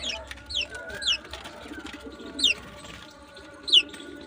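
Pigeons in a loft where a pair sits on eggs and feeds young, giving several short, sharp, high calls spaced a second or so apart over a low, busy background.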